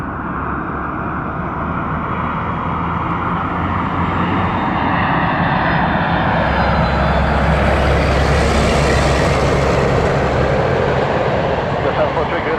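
Airplane landing at Toronto Pearson airport: a loud, steady jet engine roar fills the whole stretch, broadband and continuous, swelling slightly toward the end with no break.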